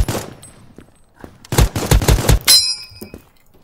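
Rapid bursts of gunfire from a gun in the video game Krunker, several loud clusters of quick shots with short gaps between them, followed by a ringing metallic tone and a final lone shot.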